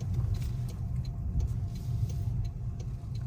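A car drives along a Toronto G driving test route, giving a steady low engine and road rumble from inside the vehicle, no talking.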